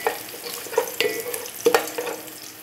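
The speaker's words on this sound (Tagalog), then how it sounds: "Kinanglan pagisahon ang rice." Uncooked rice sautéed in a pan before being boiled, giving a soft steady sizzle broken by a few sharp scraping stirs, close and alone without talk.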